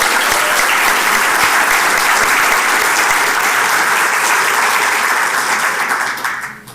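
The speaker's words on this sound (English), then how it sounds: "Can you give them a round of applause?" An audience at a public-space forum applauds steadily, a dense wash of many hands clapping at full strength that fades away at the very end.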